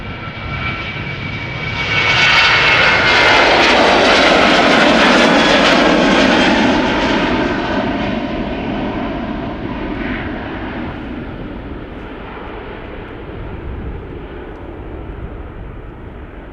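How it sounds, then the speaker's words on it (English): A KLM Boeing 737-800 jet taking off from Schiphol, bound for Oslo, builds to a loud broad engine roar that peaks early and then slowly fades as it climbs away. "Our next airplane coming up is going to Oslo. KLM flight 1143,"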